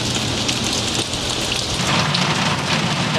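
A heavy rainstorm pours down steadily over a floating fishing village on the water in Vietnam, a loud, dense hiss of rain that never lets up, with no voices.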